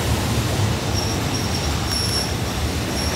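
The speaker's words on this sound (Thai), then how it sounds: "นี่นะครับขบวน252นะครับอันสตอม 4132นะครับทางขบวน252 นะครับประจวบ ชลบุรีนะครับนี่ให้ที่ทาง2นะครับ" Alstom locomotive 4132 hauling train 252 on the Prachuap–Chonburi run through the Photharam station yard on Thailand's double-track southern line; a steady, loud rolling rumble carries faint high wheel squeal throughout, with no talking.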